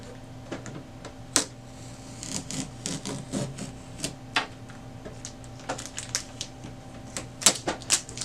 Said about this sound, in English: You just want to peel that off.